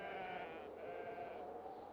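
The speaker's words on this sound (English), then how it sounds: "Close by stands a flock of sheep." A flock of sheep on North Yorkshire moorland farmland bleats steadily for about two seconds, the overlapping calls fairly faint and distant with no talking.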